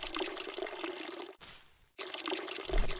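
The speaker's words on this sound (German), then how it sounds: "Erstmal gieße ich hier noch die Blumen." Flowers being watered in the video game Weed Shop 2: a steady, close splashing pour of water that briefly cuts out near the middle, then resumes at full strength.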